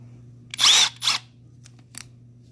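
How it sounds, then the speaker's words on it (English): Two short bursts of a Milwaukee M12 FUEL cordless hammer drill (model 2504-20) whirring up close, the first a bit longer, over a low steady hum, then quiet. "Now for the hammer drill."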